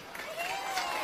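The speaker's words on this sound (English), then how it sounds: "Can we get a round of applause?" An audience claps together in a continuous round of applause at a LEGO First LEGO League City Shaper reveal event, a short, steady wash of clapping heard throughout with no speech over it.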